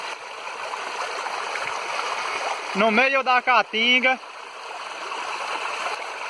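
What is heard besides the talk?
waterfall formed by an overflowing reservoir in the caatinga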